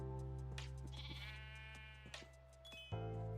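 Sheep bleating in Minecraft, a couple of close, clear bleats in a row over a quiet game background.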